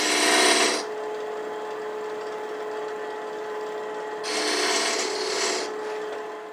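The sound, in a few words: metal lathe cutting a chamfer on the workpiece end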